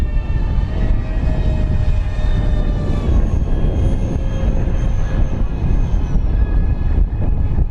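An LX Models F-4 Phantom II RC jet flies past with gear and flaps retracting, its steady loud turbine roar holding throughout with a high whine that gradually slides in pitch, no voices.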